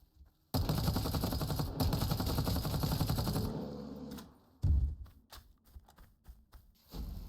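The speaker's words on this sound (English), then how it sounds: "Now we are going to go ahead and shoot this bear" Rapid automatic gunfire in the Dysterra survival game blasts loudly for about three seconds, followed by a single heavy boom and a few scattered sharper shots.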